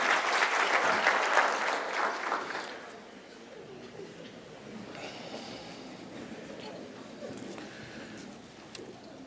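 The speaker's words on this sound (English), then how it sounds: "Give yourselves a round of applause." Audience applause in a conference hall at a healthcare association speech, a dense burst of clapping for about three seconds that fades into quieter room noise and scattered sounds.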